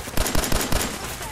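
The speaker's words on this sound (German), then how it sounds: "Da hinten höre ich wieder Schüsse." Rapid bursts of gunfire in Fallout 4 crackle in quick succession, four or five sharp shots close together and fairly loud.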